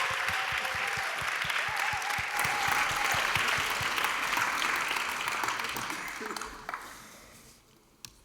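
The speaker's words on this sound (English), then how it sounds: "An applause." Audience applause at the opening event of a German child and youth welfare congress, dense and loud at first, then thinning out and fading near the end.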